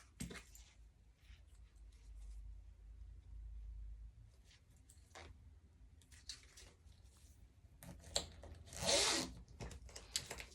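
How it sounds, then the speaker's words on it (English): Zipper pull being worked onto a burned-edge zipper tape while sewing a Cornish backpack, with short scratchy zipping bursts, light rustles and handling noises, and a louder, longer zip near the end. "So I'm going to burn the edges of my zipper and get the pull on it."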